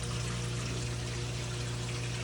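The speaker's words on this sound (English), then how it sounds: "Okay, so it's a sump pump pulling out that water." A float-operated sump pump drains water from a laundry sink, giving a close, steady motor hum layered with continuous rushing, gurgling water and no voices.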